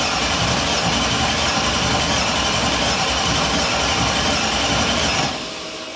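A Mercedes E55 with a newly installed standalone ECU cranks but fails to start. A loud, steady, churning mechanical drone lasts about five seconds, then cuts off abruptly, with no voices.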